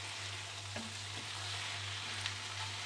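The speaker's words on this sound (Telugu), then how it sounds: "బాగా పచ్చి వాసన పోయే వరకు ఫ్రై చేసుకుందాం" Chili and coriander powder masala frying in a pan for a banana fry: a steady, even sizzle with a low background hum, uninterrupted and without speech.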